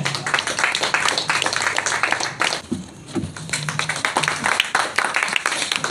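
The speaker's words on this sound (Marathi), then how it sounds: "एकदा जोरदार टाळ्या" Audience at a poetry festival breaking into loud, dense applause that carries on steadily, dipping briefly in the middle before building again.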